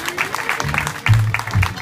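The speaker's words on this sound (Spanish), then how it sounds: "Un aplauso para el señor." Brief scattered applause from an audience at a tango show, a handful of claps in a quick irregular rhythm, mixed with murmuring voices and a low hum in the room.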